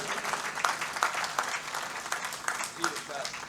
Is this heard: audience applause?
yes